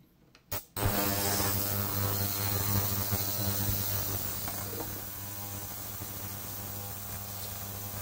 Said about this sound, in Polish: ustawiam grzałkę i ten irytujący dźwięk